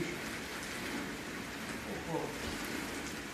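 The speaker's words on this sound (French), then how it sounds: "des épisodes pluvieux comme ça qui durent aussi longtemps et qui sont aussi répétés" Heavy rain falls steadily in the south of France, a dense, continuous hiss of drops with no pauses.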